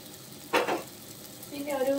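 Tomato masala with coriander powder sautéing in a pan: a short burst of sizzling and stirring, then a steady fry under a brief faint voice.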